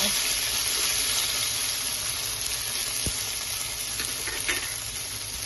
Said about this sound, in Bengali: এবার আমি পনির দিয়ে দেবো, দিয়ে ভালো করে পনিরটা একটু হালকা হালকা ভেজে নেব